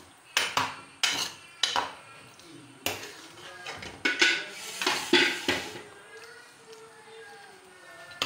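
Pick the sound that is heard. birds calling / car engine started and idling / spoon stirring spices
spoon stirring spices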